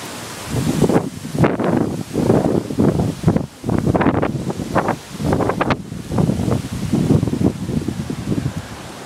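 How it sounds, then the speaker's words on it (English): Strong gusty wind roars during a wind storm, buffeting the microphone in loud, uneven surges with brief lulls between gusts. "It's pretty windy out here, guys."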